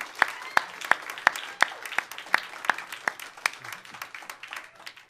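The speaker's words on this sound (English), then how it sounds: "Give yourselves a round of applause." Audience clapping at the Hawaiian Financial Music Hall after a live band set, sharp hand claps landing in a steady, even rhythm for about five seconds with no voices.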